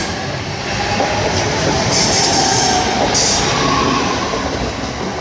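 A Class 323 electric train departs a station toward Manchester Piccadilly, a steady rumble of wheels on rails with brief high squeals and clicks, close and fairly loud.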